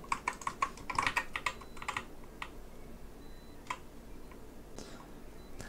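Code goes in on a computer keyboard in a quick burst of close, crisp key clicks at first, then slows to scattered single taps with quiet pauses between them.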